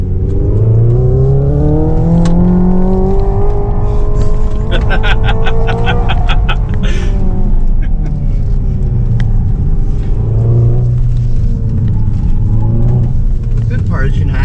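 Hyundai Ioniq 5 N electric car on a track producing a simulated engine sound that revs up and bounces against a rev limiter, loud and continuous with rising and falling pitch, mixed with tyre and road rumble.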